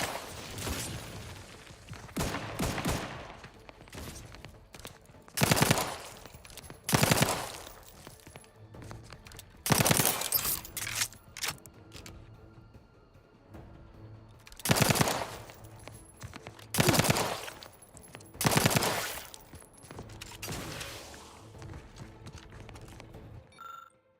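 Companion Valerie firing a weapon in The Outer Worlds 2, heard as repeated loud bursts of rapid shots separated by short pauses, clustered into several volleys against a quiet background.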